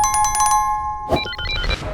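A telephone-style bell rings in quick repeated bursts, followed by a short chime-like jingle of bright notes, all fairly loud and close.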